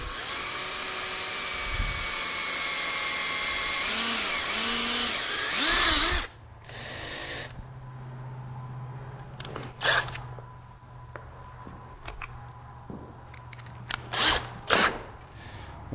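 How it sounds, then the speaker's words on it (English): A handheld power drill bores pilot holes while a steward clog is mounted, a steady high whine running loud for about six seconds, then shorter intermittent bursts and clicks as the bit starts and stops. "And drill our pilot holes there."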